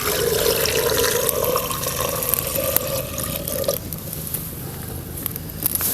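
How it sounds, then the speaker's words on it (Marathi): Water pours steadily from a metal pot onto sweet potatoes for boiling, splashing for several seconds before the flow stops and only faint dripping and rustling remain. "बघा तांब्यावर पाणी घेते ओतून"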